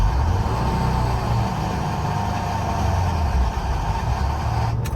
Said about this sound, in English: Instead of like having your foot on the brake when you start, you have your foot on the gas and you give it a little rev